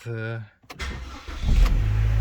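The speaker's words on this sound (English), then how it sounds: "Let's start the car." A 2013 Opel Astra J 1.4 turbo engine cranks and catches, settling into a low, steady idle after a brief bit of talking at the start.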